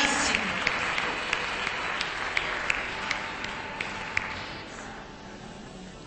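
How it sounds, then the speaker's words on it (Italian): Applause for participants in a hairdressing contest event, a sustained wash of crowd clapping with occasional sharper claps, steady and moderately distant before gradually fading. "E un grande applauso"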